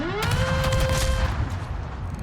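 Naval guns on the ship Gdansk firing in a warship game, a loud rolling volley of booming shots that trails off into a fading rumble, with no voices.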